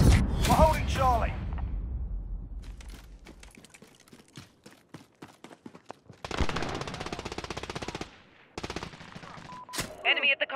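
Gunfire in Call of Duty: Modern Warfare: a loud opening burst, then rapid rattling automatic fire in clusters, some distant and some close, with shouted voices mixed in at the start and near the end.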